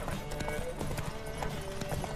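Horse hooves galloping in The Witcher 3, rapid rhythmic clip-clop beats over a game soundscape, close and steady with faint horse snorts.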